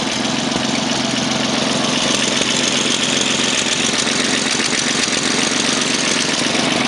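Cold 1934 Chevrolet truck with its 207 overhead valve engine idling on slight choke, a steady close-up rumbling drone with a faint regular knock, no voices.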